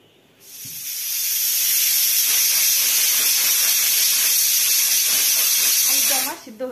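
A kitchen pressure cooker whistle cooking rice, a loud continuous hissing jet of steam that builds quickly, holds steady for several seconds close by, then cuts off sharply.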